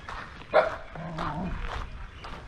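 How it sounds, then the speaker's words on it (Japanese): A guard dog on a street in India barks a few times at a distance, one sharper yelp standing out, the sounds fairly faint over quiet street background. "フォースストリートにはなんか番犬がいて、向こう行くとすごい吠えられるな"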